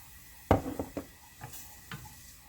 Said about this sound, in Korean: 얼른 물에 개인 찹쌀 풀물을 넣어주고 계속 저어주세요.